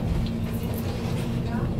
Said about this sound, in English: So now we are sitting in the intercity train.